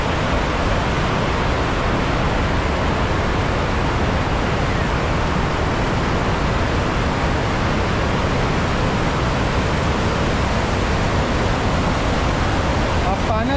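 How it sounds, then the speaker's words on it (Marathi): Water rushes out of four open gates of the Girna Dam, a loud, steady, broadband roar filling the whole stretch without letup, close and powerful, with no clear voices. "हा प्रवाह बघा पाण्याचा कसा आहे. या धरणाला एकूण 14 मोऱ्या आहेत. त्याच्यापैकी 4 मोऱ्या सोडल्या आहेत."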